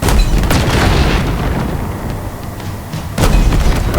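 A Covenant Phantom dropship explodes in Halo Infinite, heavy booming blasts with loud bursts at the start and again near the end, a sustained rumbling roar between them.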